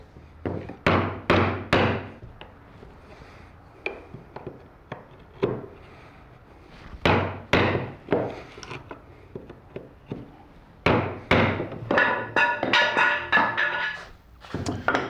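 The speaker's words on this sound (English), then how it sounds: "I'm going to finally get to go ahead and use my new mallet, see how it works out." A new wooden mallet strikes wood on an Arts & Crafts coffee table build, loud solid thunks falling in irregular bursts of several blows separated by quiet pauses.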